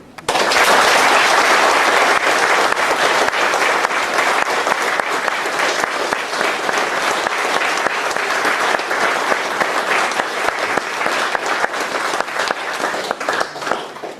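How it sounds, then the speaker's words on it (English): Loud, sustained applause from a large audience, thick continuous clapping that holds steady for the whole stretch. "we'll finish off with one final big round of applause to say thank you"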